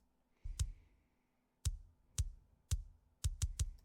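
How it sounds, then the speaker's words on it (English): An unprocessed kick drum from a pop punk mix plays on its own, seven dry, punchy thumps in an uneven pattern, with a pair of closely spaced hits near the end and short decays between them. "So the kick drum on its own without processing sounds like this."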